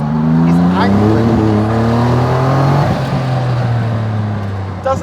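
Donkervoort P24 RS lightweight supercar with a V6 engine pulling hard, a loud, harsh, angry note rising steadily through the revs close by, with a voice talking over it.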